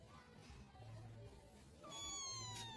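A cat meows faintly in a quiet room, a couple of soft high mewing calls near the end with light background noise and no talk.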